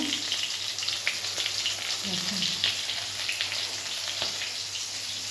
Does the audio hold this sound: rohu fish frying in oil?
yes